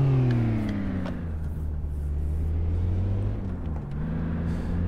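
Honda Civic Type R pulling hard on a city test drive, its engine droning loud and steady with harmonics that rise and dip as revs climb, close to the microphone with no talk.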